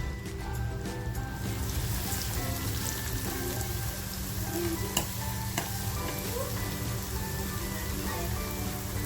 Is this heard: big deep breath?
no